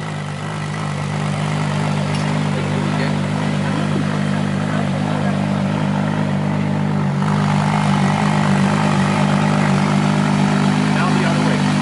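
A powerful supercar engine runs at a car meet with a deep, steady droning hum, holding a constant loud tone throughout.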